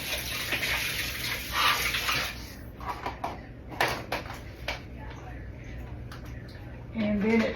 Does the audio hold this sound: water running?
yes